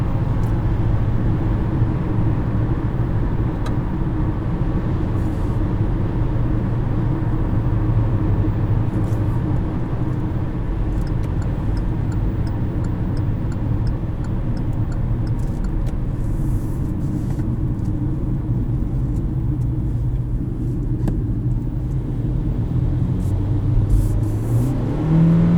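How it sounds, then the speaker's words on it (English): A 2020 Kia Rio engine in normal drive mode, revs dropped, idles with a steady, low rumbling drone that stays fairly even throughout, with no voices. "Putting it into normal mode, revs drop dramatically and everything's a little bit more relaxed."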